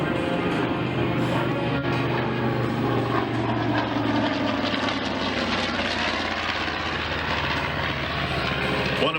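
A loud, steady TBM Avenger single-engine propeller aircraft drones throughout at an airshow, a dense roar that holds at full power without letting up.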